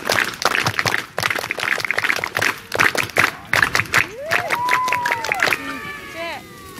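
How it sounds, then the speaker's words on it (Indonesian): A group of people at a campfire gathering claps out the rhythmic scout clap pattern in quick, sharp bursts, with voices and a brief whistling tone coming in toward the end. "Semuanya, dua kali tepuk pramuka."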